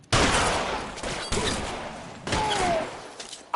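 Gunfire in the crime game LA Noire: sharp shots ring out in a few bursts with short gaps between them, fairly loud against a busy game background.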